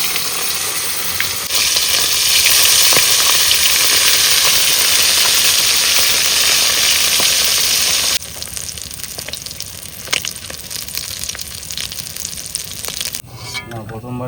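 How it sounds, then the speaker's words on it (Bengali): Bhola fish sizzling as they go into hot oil, a loud, steady broadband hiss and crackle that holds for several seconds, then drops to a quieter, uneven sizzle with scattered pops. "তেল গরম হয়েছে বন্ধুরা, এবার মাছ দিয়ে দেবো।"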